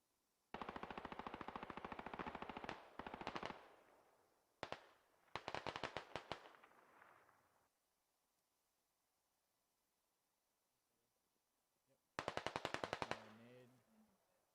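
Gunfire in the game Squad during a forest operation: long rapid automatic bursts, then a single crack, another burst, a long silence and a final rapid burst, loud and close.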